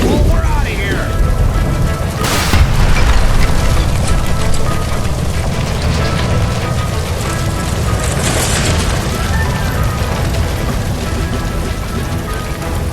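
A gas line explodes after being shot during a shootout at the Nicholson Electroplating plant in the L.A. Noire video game: a loud, sustained rumbling roar with a sharp burst near the start and a dense wash of debris and fire noise.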